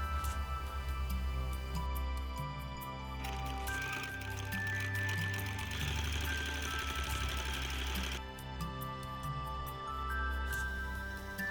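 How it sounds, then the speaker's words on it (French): A sewing machine stitches fabric pieces for a Santa Claus cutlery holder. The motor whirs and the needle clatters rapidly and steadily for the whole stretch, close up, rising a little in intensity partway through. "Je pars ici à la machine à coudre."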